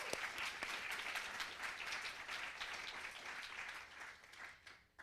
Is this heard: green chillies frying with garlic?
no